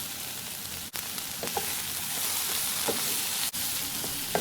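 Onion and tomato sauté in a pan for chutney with a loud, steady, close-up sizzle and hiss, broken by a couple of brief stirring scrapes.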